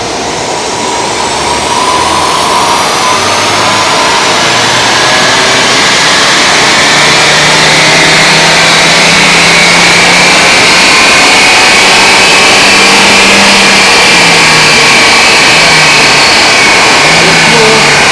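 A Suzuki Swift Sport Hybrid engine roars at full throttle on a dyno, a loud sustained rising rev that climbs steadily for the whole run with a whining tone on top.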